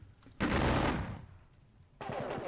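Musket volleys in a Napoleonic war video game: a dense, loud crackling burst of massed gunfire, a short lull, then a second ragged volley, with no talk.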